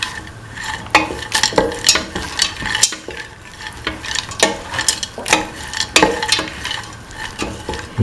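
Kidney beans are stirred in a hot pan for a vegetarian stew, a steady sizzle of frying under repeated close scrapes and clatters of the spoon against the pan.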